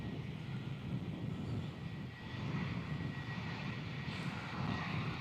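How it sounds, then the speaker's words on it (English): A Qantas Boeing 737-800 jet at Melbourne Airport, its engines giving a steady, fairly distant roar with a faint whine, rising slightly partway through and holding on without voices. "Qantas 737-800."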